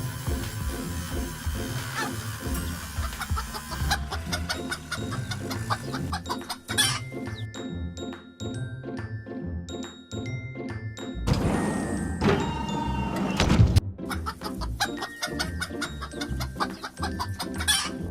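Hen clucking repeatedly in a children's farm-animal sound sequence, with rhythmic clucks over steady background sound, some thunks and a rooster crow mixed in.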